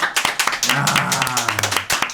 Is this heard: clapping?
yes